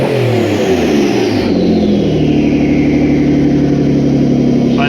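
A Nissan 300ZX with big turbos runs loud and close, its engine droning as the revs shift and settle, with a whirring tone gliding downward.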